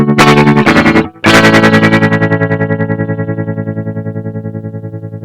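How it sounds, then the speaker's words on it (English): Electric guitar played through a Synthrotek 308 Eurorack distortion module with fast tremolo, a loud buzzy chord pulsing rapidly, briefly cut off near the start, then ringing on and slowly fading. "Faster sort of tremolo, distortion tremolo."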